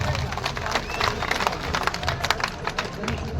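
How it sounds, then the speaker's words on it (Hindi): A crowd of outsourced workers protesting outside the Shimla Legislative Assembly claps in a dense, uneven patter, the applause thin rather than roaring, with crowd noise and voices mixed in. "तालियों में अब वो दम नहीं रहा"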